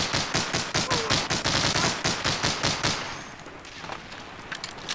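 Automatic gunfire from Medal of Honor: Allied Assault on the Omaha Beach level rattles out in a fast, loud burst of a dozen or more shots, then breaks off into quieter game noise.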